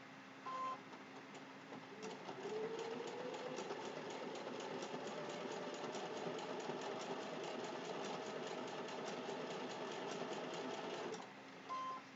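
A home sewing machine stitches appliqué on a Halloween fabric placemat, driven by a foot pedal: a steady, fast mechanical whir with a faint rising whine that runs unbroken for about nine seconds, with short pauses at the start and end.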